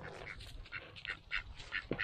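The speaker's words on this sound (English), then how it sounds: "The ducks want to try some." Ducks on a farm quack repeatedly in short, rapid bursts, several calls overlapping at close range without pause across the brief moment.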